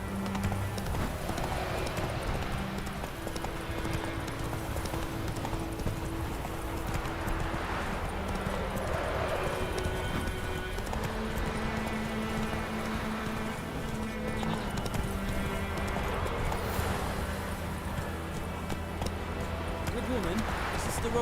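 Geralt's horse Roach gallops in The Witcher video game, giving steady, fast clip-clop hoofbeats that run throughout alongside game music, with occasional voices talking over them.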